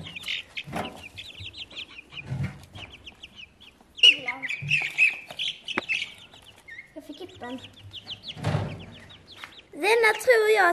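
Chicken clucking and chirping in a backyard flock, repeated short calls near and fairly loud across the whole stretch, with soft human voices and handling noises mixed in.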